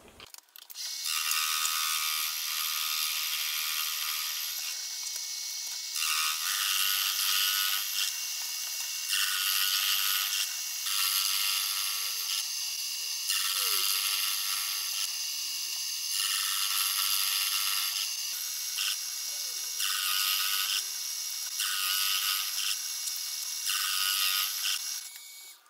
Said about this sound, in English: Nothing else left to do but get this gear cut.